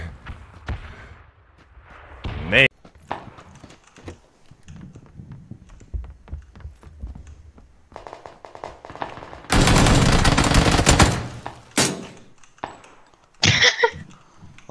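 Gunfire from a multiplayer shooter video game: scattered single shots and short bursts, with one long, loud sustained stretch of automatic fire and a few sharp cracks afterward, heard close up.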